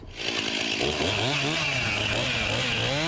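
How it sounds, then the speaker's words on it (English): Chainsaw cutting through the base of a pine Christmas tree at a garden center, a loud close buzzing whine that swells as it bites in, then holds a steady wavering drone. "A chainsaw levels off the base of this pine tree at Ron Paul Garden Center."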